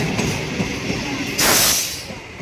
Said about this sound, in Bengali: আমরা লাইনটা ক্রস করতে পারলাম না, তার আগেই আপে ট্রেন ঢুকে গেছে।